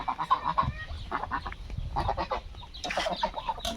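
Domestic ducks, including Chinese ducks, calling repeatedly, a mix of honks and clucks from several birds nearby, with busy overlapping calls and no talking.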